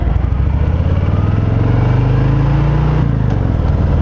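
A Harley-Davidson Fat Boy with a Milwaukee-Eight engine rumbles loudly and steadily close up, its deep pitch rising as the bike pulls through a gear, then dropping briefly at a shift before the drone carries on.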